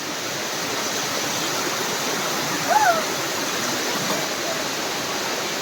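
A small woodland waterfall gives off a steady, even rush of falling water, close and filling the scene, with a faint brief voice around the middle.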